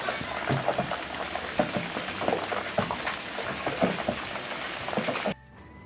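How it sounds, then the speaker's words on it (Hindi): A leg of mutton (raan) frying on high heat, a dense continuous sizzle and spitting crackle held at steady loudness, close by, cutting off abruptly near the end. "अब 10 मिनट के लिए दूसरी साइड फ्राई कर लेंगे"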